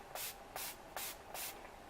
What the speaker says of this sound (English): you have to spray out what's in the sprayer first